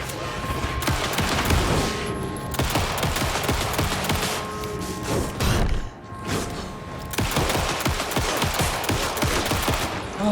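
Gunfire in the video game Alan Wake 2: loud, dense bursts of rapid shots that roll on almost without a break for about ten seconds, with a short lull midway before the shooting resumes.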